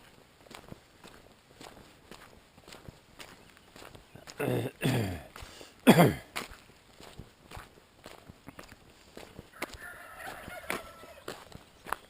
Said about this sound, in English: I don't know whether the turkeys are trying to compete with the rooster, or the rooster's trying to compete with the turkeys.